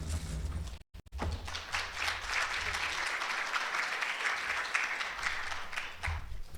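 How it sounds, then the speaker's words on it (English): An audience at a plenary education conference session applauds the keynote speaker, a dense, sustained clapping from a crowd filling the room after a brief pause at the start. "Let's give him a round of applause."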